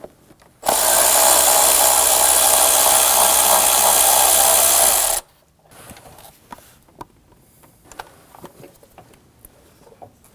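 A power tool, likely an impact driver or ratchet, spins out a 10 mm coil pack bolt on a 2016-2022 Honda Pilot 3.5L V6 engine, a loud steady whir for about four seconds, then quiet clinks and small handling noises.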